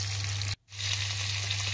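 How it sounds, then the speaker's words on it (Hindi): Slit amla (Indian gooseberries) go into a hot pan of oil for an instant pickle, giving a steady, close sizzle that briefly cuts out and then resumes just as strong. "अब हम इसमें डालेंगे हमारे चीरा लगे आंवला"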